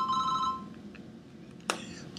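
A telephone rings in a quick electronic trill for about half a second, then stops; a brief sharp knock or click follows shortly after in a quiet room.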